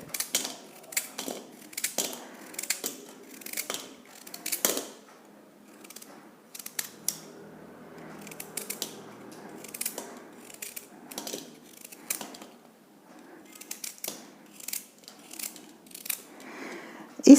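Carrots are cut into thick pieces, heard as a run of crisp, close knife chops and clicks in uneven bursts with short pauses between them.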